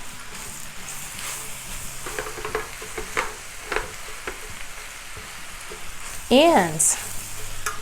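Macaroni and ground meat being stirred in a pan on a low flame, a soft continuous sizzle with scraping strokes, while someone talks over it and a brief high squeak is heard near the end.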